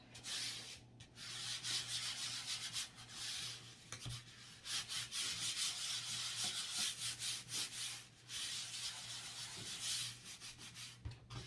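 Sheet of paper smoothed out by hand over a table edge, a steady close dry rubbing and brushing that runs almost continuously, with a few brief pauses and a faint low hum underneath.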